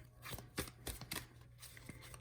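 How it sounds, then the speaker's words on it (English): Oracle cards for a tarot-style reading are shuffled in a quiet room, giving several soft, quick riffling bursts close by. "This is the Wisdom of the Oracle cards that I'm going to go ahead and shuffle and get more messages from."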